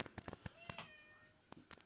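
Kittens meow faintly in several short, thin cries scattered across a quiet indoor room.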